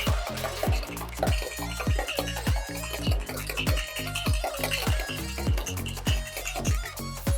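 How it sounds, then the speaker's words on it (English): Liquid sloshing and clinking in a container as chocolate protein coffee is stirred or shaken vigorously, with a rapid, repeated rhythm up close. "And then I'll mix it up really good and heat it up"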